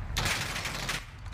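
A dense burst of gunfire from the Warzone battle royale video game rattles for about a second, loud and close, then cuts off, with no voices over it.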